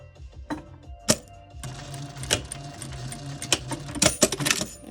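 Domestic sewing machine, run by foot pedal, stitching a fabric face mask, with a steady mechanical whir and needle clatter that speeds up and stops in short bursts, close and fairly loud.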